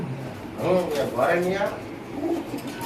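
Imported female pigeons at a bird sale coo in soft, rolling bursts, with someone talking over them close by.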